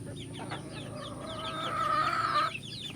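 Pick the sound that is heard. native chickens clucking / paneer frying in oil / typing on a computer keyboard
native chickens clucking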